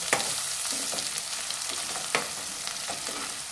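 Ginger garlic paste, onions and green chillies sizzle in a pan for chicken curry, a continuous close crackle with sharp spoon scrapes and taps recurring every second or so, and no voices.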